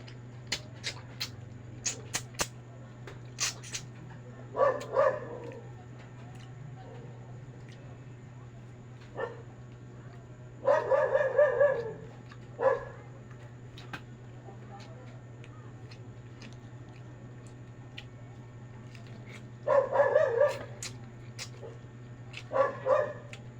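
A dog barks in short bursts at a distance, several separate volleys spread out, over a steady low hum with some clicks and voices.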